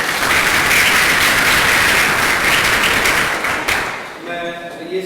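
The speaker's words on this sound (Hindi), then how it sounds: "तालियां बज के थैंक यू।" An audience applauds loudly after a personality development session, a dense continuous burst of clapping that tapers off after about four seconds as a voice begins.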